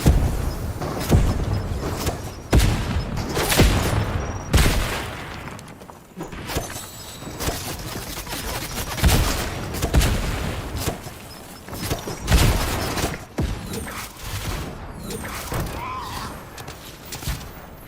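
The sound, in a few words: gunfire in Fortnite video game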